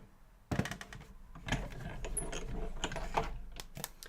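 A die cutting machine cranks paper through for a poinsettia leaf die cut, giving a steady mechanical ratcheting and gear-grinding rumble that starts abruptly and carries on close and continuous.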